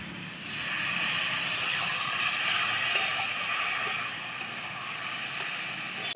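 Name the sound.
water added to cooking papaya and lentil curry in pan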